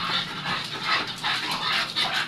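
A puppy pants in quick, breathy bursts at close range, with a faint whimpering edge mixed in, and no one talking.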